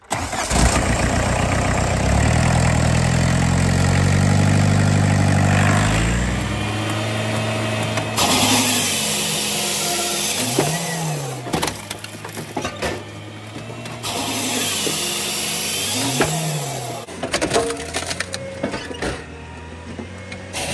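A diesel engine at a woodlot cranks and fires after its glow plugs are run, then settles into a steady idle broken by two rising and falling revs, heard loud and close with no talk.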